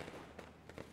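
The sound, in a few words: firecrackers in the video game Nine Sols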